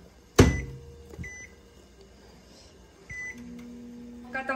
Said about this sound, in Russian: Сухарики я отправляю в духовку.